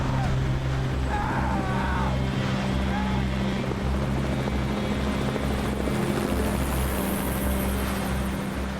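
A helicopter's steady low rotor drone fills the air throughout, constant and loud, with faint voices underneath.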